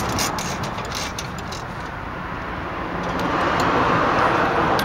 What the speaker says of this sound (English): now we're going to take off the bolt. We just ratchet that out.